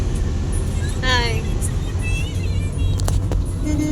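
A family rides inside a moving car, and a constant low road and engine rumble fills the cabin while voices talk over it.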